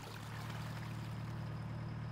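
A boat in the Ultimate Fishing Simulator video game, on water off Thailand, runs its engine in a steady low hum beneath a continuous wash of water, constant and unbroken with no talk.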